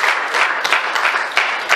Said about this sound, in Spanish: Denle un aplauso, Señor, en esta tarde.